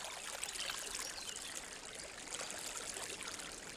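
A forest stream in Serbia, home to fire salamanders, flows and trickles steadily with a bright broadband rush of water, close and continuous with no voices.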